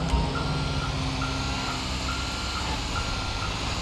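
Repeated electronic reversing beeps of a tow truck in GTA V at a steady pace over a continuous low engine rumble, moderately loud and close.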